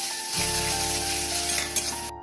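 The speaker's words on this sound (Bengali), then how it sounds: "পেঁয়াজ আর টমেটো আমার কষানো হয়ে গেছে, দিয়ে দেবো আদা রসুন বাটা" Ginger garlic paste sizzles loudly in hot oil with cooked-down onion and tomato while fish curry is being made, a steady close frying hiss with no voices.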